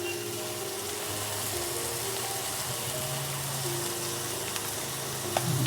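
Mixed fried rice with soy and Szechuan sauce being stir-fried in a pan gives a steady close sizzle with scraping stirs throughout, plus a brief clack near the end.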